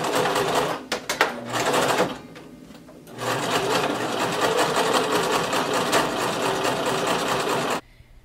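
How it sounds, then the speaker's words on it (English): A sewing machine stitches fabric pockets onto a high-low maxi circle skirt, running in a long, steady, loud burst after a few brief starts and a short pause, then stopping abruptly. "going to take it to our machine and sew all 4 pockets"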